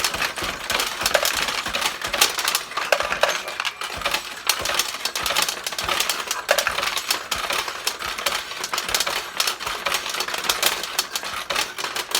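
A Nishijin Sophia Diana pachinko machine fires balls one after another, giving a fast, steady clatter of metal balls that ticks and rattles continuously at close range with no talk.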